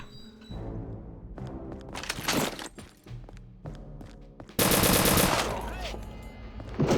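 Loud World War II rifle and machine-gun fire rattles in the RealRTCW video game, with sharp single shots early and a dense, sustained volley from about the midpoint onward.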